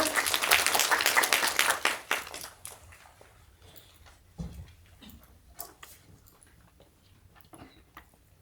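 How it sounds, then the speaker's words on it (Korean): An audience at an education seminar opening applauds to welcome a speaker, a dense burst of clapping for about two seconds that quickly thins to a few faint scattered claps and small knocks. "큰 박수로 맞이해 주세요"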